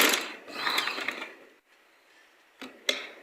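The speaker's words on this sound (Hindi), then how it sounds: "तो यहाँ देखें सिलाई लगा लेनी है यहाँ तक कंप्लीट।" Sewing machine stitching a kurti neckline, a short close run of rapid mechanical chatter that fades out, followed by quiet and a couple of sharp clicks.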